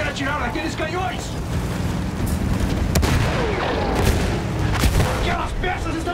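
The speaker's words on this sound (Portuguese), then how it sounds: "A artilharia está acabando com os nossos rapazes!" In the Battlefield 1 campaign, heavy artillery booms and explosions roll out in a dense, continuous battle din, with sharp blasts standing out, under urgent shouted voices.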